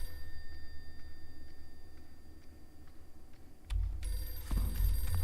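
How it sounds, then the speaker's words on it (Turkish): A telephone bell rings with a bright, sustained metallic jangle that starts partway through, over a low rumbling background and a few faint clicks. "Telefon."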